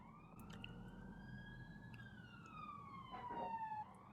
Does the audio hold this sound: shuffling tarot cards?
no